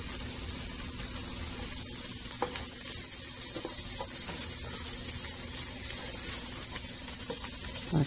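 Vegetables for Chinese-style fried rice sizzle steadily in a hot pan, with occasional scrapes and clicks as they are stirred, close and continuous, no talking.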